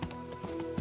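Horse hooves clop in Kingdom Come Deliverance 2, several quick, fairly faint steps in an uneven rhythm over a steady background hum.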